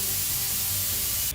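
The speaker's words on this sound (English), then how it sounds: "79SG Syphon Gun can be used as an air gun to clean and dry." A Guardair 79SG syphon safety air gun with a cast aluminum body blasts compressed air in a loud, steady hiss that runs continuously and cuts off abruptly at the end.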